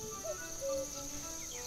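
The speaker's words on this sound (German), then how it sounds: "Es klingt, als ob das Grillenzirpen aus der Tanne kommt." A cricket chirps from a fir tree in the game Night of the Rabbit, a steady high chirping drone that carries on faintly under soft background tones.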